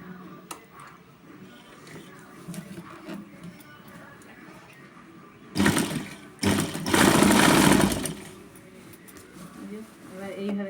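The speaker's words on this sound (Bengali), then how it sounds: "সমান করে দিয়ে এইভাবে সেলাইটা চালাতে হবে।" A sewing machine stitches a lungi in two short runs, a brief burst followed by a longer, louder whirring stretch, with quieter room sound and some talking around them.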